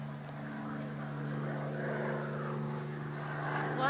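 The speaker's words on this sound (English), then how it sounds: "There's an airplane." A propeller airplane at an air show drones steadily overhead, a faint continuous hum with a slight swell, with no voices.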